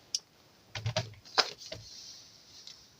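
A paper trimmer slicing through card: a few sharp clicks and a short scraping cut, close and quiet in an otherwise silent room.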